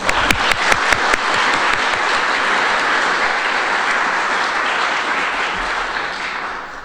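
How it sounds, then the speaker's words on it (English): Audience applause at a New Hampshire preservation conference, a dense steady wash of clapping from a large crowd with a few sharp claps standing out early, holding strong for about seven seconds before easing slightly. "we'll give them a round of applause."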